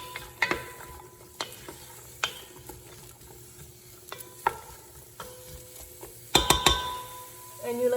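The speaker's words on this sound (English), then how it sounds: "give them a big stir so that they're coated with the olive oil" Onions being stirred in olive oil in a pan while making fennel and garbanzo bean soup: scraping stir strokes over a low sizzle, with occasional louder clatters near the end.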